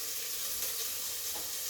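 Sliced onions sizzle and fry in hot ghee in a pan for biryani, giving a steady, close crackling hiss with faint stirring and no talking.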